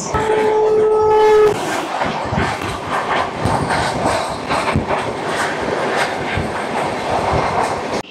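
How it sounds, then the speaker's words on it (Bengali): The Sealdah to Rampurhat Maa Tara Express passes through the station, a loud horn blast giving way to rushing rumble and clickety-clack of wheels, with a faint voice underneath. "চলে আসছে ট্রেন নাম্বার 13187 শিয়ালদা থেকে রামপুরহাট জংশন মা তারা এক্সপ্রেস।"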